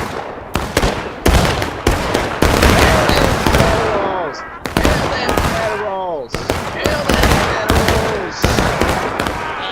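Infantry volleys in the Manassas Campaign game, dense rapid musket shots cracking in ragged bursts, close and loud, with a voice speaking intermittently between them.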